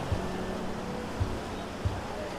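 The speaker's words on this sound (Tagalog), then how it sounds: "Medyo malakas ang alon" Fairly strong surf roars close by at a beach in Real, Quezon, broad and continuous, with a few soft low thumps from waves breaking.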